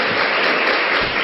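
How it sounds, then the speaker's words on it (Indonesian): A seated audience applauds at an Indonesian business seminar, a dense, steady wash of clapping that stays even and fairly loud for a brief burst, with no voices on top. "Ya, tepuk tangan buat Anda."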